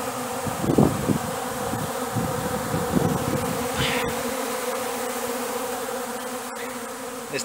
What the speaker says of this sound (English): There's tens of thousands of bees trying to get a feed.